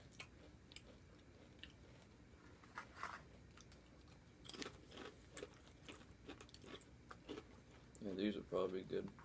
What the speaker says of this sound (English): They're crunchy, they're fresh.